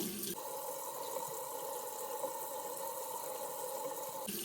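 Tap water runs steadily onto a hand in a sink, a soft even rush from start to finish, bracketed by brief brighter sounds at either end.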